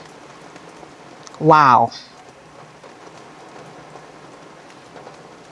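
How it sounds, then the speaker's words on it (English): Heavy rain drumming steadily on a car roof during a storm in The Gambia, a dense constant patter throughout, briefly interrupted by a loud exclaiming voice near the start. "The rain is doubling down."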